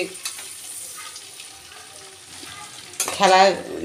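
Soft frying sizzles and crackles quietly, then a louder clattering burst breaks in near the end.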